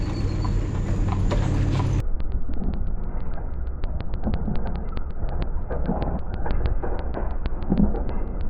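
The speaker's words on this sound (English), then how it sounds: "there's an Amish buggy, horse and buggy coming." Steady clip-clop of an Amish horse-drawn buggy's hooves on pavement along a rail trail in Holmes County, Ohio, a brisk even trot approaching at moderate distance, with no voices.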